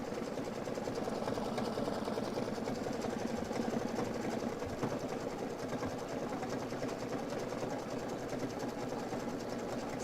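An embroidery sewing machine stitching a grass design hums with a rapid, steady mechanical needle rhythm, continuous and close, with no voices.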